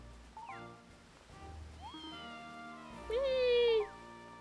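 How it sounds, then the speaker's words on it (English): A stock cat meow from the Fantasy Life video game: one short, loud, rising-then-falling mew near the end, over soft game music and ambience. "Stock cat sound."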